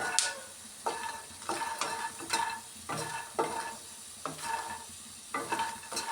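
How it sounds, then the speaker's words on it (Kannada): Dried red chillies fry in hot oil in a pan with a steady sizzle, broken by about six regular scraping strokes of a spoon stirring them, close and fairly quiet, with no voices. "ಒಣಮೆಣ್ಸಿನ್ಕಾಯಿನ ಸೇರಿಸಿ ಫ್ರೈ ಮಾಡ್ಕೊಳ್ಳೋಣ ಚೆನ್ನಾಗಿ"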